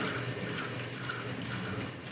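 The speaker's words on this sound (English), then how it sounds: "Get a little bit of water on there and start what's called sintering the clay." Water squeezed from a sea sponge onto wet clay spinning on a pottery wheel, a soft continuous wet swishing and trickling over a low steady wheel hum, close and moderately quiet.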